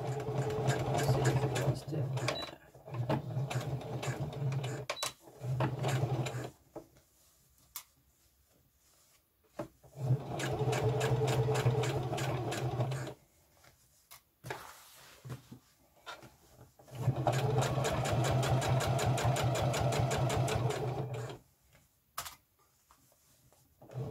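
A sewing machine runs a straight seam with stitch length 4 on a front-button skirt, humming in several long bursts with pauses between, while someone talks in the background.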